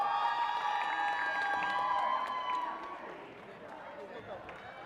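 Crowd noise at a robotics competition, cheering and shouting for team Accelerate, loud and steady for about three seconds before easing to a quieter murmur, with voices mixed in.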